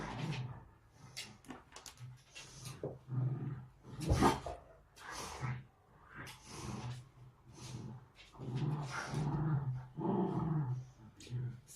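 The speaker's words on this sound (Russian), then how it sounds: "Страшная собака." A dog growls and snorts in a low, rough rumble that rises and falls in several bursts at moderate distance, with people talking around it.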